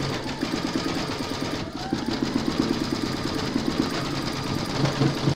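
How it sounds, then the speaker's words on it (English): Embroidery machine stitching out free standing lace leaves on water-soluble stabiliser in a hoop, a steady fast rhythmic needle chatter and motor hum, close and continuous throughout. "Pop your hoop into your machine and stitch round number one,"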